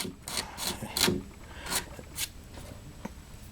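Hardened glue is scraped out of the corner of a guitar's ribrest binding. It comes as a series of short, close rasping strokes in uneven rhythm, fairly quiet, with no talk.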